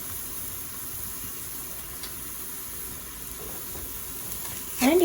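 Adai batter sizzles on a pan over a low flame with a soft, even crackle, fairly quiet. A brief voice rises at the very end.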